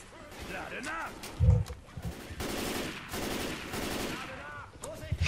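Bursts of weapon fire in Left 4 Dead 2, heavy thumping shots and rattling volleys mixed with game effects and a voice talking over the action.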